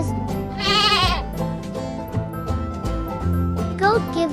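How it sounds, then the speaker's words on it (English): A goat bleats loudly in a wavering, quavering cry, joined by a second bleat near the end, set against bright cartoon-style background music for a children's farm animal lesson. "This is a goat."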